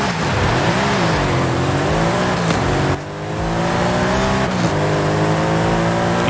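A Noble M600 in a racing game, engine droning and climbing in pitch with sweeping revs, a brief dip as it shifts, tires squealing faintly, steady and close with no talk.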